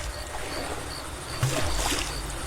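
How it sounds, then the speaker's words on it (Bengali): A boat glides along a riverbank with soft, close water lapping and splashing under a faint hiss, and a brief stronger surge of water midway. "নদীর পার ঘেঁষে নৌকা চলছে।"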